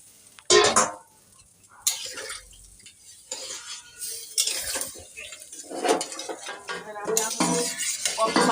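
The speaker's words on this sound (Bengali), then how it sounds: "বাসন কটা ধুয়ে বেসিনটা পরিষ্কার করে নিই" Dishes are washed in a kitchen sink, with scattered clinks of utensils and plates, running water and short scraping bursts that start and stop at irregular intervals.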